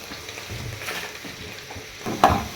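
Onions frying in a pan until lightly browned give a close, low sizzle with soft stirring scrapes and a brief louder clatter near the end, without any talk.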